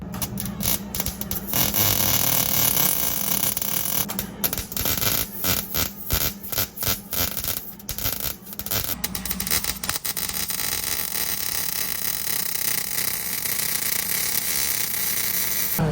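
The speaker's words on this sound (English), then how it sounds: "My buddy's down here welding right now." Welding on the exhaust flex pipe of a Hemi Charger: a steady, loud crackling hiss, choppy and sputtering at first, then settling into a continuous buzz.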